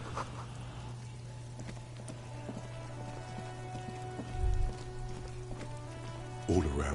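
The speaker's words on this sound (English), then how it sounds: "rain falls on the great city" Rain falls in the city streets of the video game Disco Elysium, a steady patter and drip under a low electrical hum, with a couple of brief louder thumps along the way.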